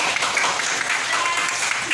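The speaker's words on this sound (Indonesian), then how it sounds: "tepuk tangan dulu untuk kelompok hadas" A class applauds a student group after its presentation on major hadas, a fairly faint, even patter of many hands clapping for the whole stretch.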